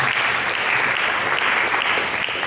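Congregation applause during a church sermon, steady loud clapping from many hands filling the space without pause.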